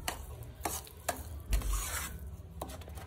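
Sugar being stirred into sheera in a pan with a spoon, close scraping strokes and light knocks against the pan in an uneven rhythm, with no talk.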